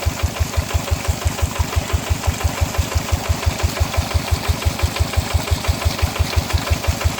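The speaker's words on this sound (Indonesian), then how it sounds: "Jadi petani mengakalinya dengan memodifikasi traktor menjadi pompa" A farm tractor's engine, modified to drive a water pump, runs steadily nearby with a fast, even chugging beat of sharp low knocks that never changes pace.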